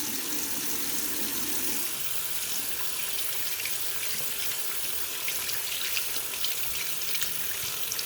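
Tap water runs steadily into a sink while a Voyor BR510 blackhead remover pore vacuum is washed under it; an even, close splashing stream with no talking.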